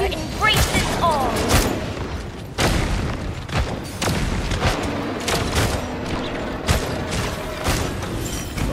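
Gunfire in the battle game Naraka Bladepoint: a run of sharp shots and booming thuds scattered at irregular intervals, some close and heavy, with other game effects mixed in and a voice heard now and then.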